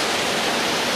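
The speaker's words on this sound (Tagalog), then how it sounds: "waterfalls." A powerful waterfall roars inside a cave, a loud, steady broadband rush of falling water that fills the whole second with no break.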